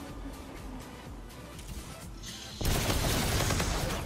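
Rapid automatic gunfire in the multiplayer gun game mode of the shooter Infinite Warfare, a dense crackle of shots that starts at moderate level and bursts into loud, sustained firing partway through.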